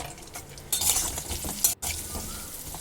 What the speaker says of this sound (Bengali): আলুটা তেলের মধ্যে ছেড়ে দিয়ে দিয়ে দিলাম সামান্য একটু লবণ আর সামান্য একটু হলুদ দিয়ে ভেজে নেব